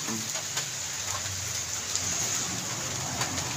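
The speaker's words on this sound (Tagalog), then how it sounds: "Sunel, maulan dito sa atin." Heavy, steady typhoon rain pours down in a continuous dense hiss, close and fairly loud, with no voices over it.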